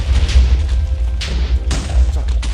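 Cannon fire in a Minecraft mod, blasting apart blocks and trees: loud, repeated booming thuds with crumbling crashes, a sharp blast near the start and more impacts around the middle and later, with no talk.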